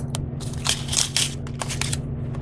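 Crushed glass being put onto a polymer clay pendant, with close crunching, crackling and gritty scraping in irregular bursts over a steady low hum.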